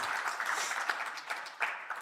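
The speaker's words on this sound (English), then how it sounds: "A round of applause for Ms." Audience at a housing research seminar clapping together, a dense, moderately distant patter of many hands that flutters unevenly for about two seconds with no speech over it.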